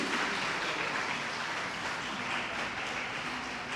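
Steady, dense applause from an audience at a women's conclave in Faridabad, honouring an advocate and a women's-safety ACP on stage. The clapping is even and sustained throughout, with no voices rising above it.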